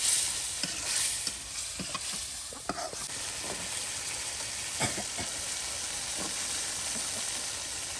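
Dried fish (shutki) is stir-fried together with onion and garlic in a village kitchen. There is a steady close sizzle, with occasional scraping stirs and light clinks over the hiss of the pan.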